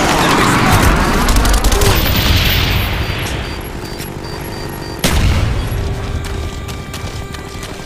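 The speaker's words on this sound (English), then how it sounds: "Napalm strike coming in." A napalm strike in the video game Call of Duty: Black Ops, with a long, loud, rumbling roar of blasts that fades, then a sudden sharp boom followed by sustained rumble and crackling debris.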